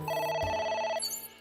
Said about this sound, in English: Telephone ringing.